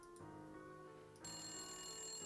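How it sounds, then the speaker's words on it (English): A telephone rings in the Nancy Drew game Message in a Haunted Mansion, a steady electronic ring over quiet game background music that steps up louder partway through. "Oh, the phone is ringing."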